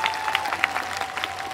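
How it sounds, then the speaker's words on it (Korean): Applause from a jazz festival audience for a vocalist, a dense patter of clapping at steady level through the short stretch, with a faint sustained tone beneath it. "큰 박수 부탁드릴게요"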